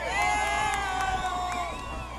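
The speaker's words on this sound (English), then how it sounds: "the crowd comes alive here in the top of the 6th" A rowdy baseball crowd cheers loudly and steadily in the top of the sixth inning, a dense roar of voices and whoops with no single voice standing out.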